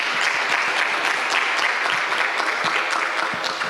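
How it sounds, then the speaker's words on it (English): A conference audience at a translational and preventive healthcare event claps after a panel discussion, a continuous patter of many hands at a moderate, even level, with no talking on top. "request all of us to have another round of applause for the three discussions"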